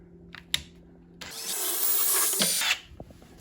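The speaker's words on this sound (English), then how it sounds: "take our drill, okay? Keep it steady and go straight through her" A power drill whirs through a wooden cabinet door for just over a second, a loud grinding buzz between faint knocks and handling noises.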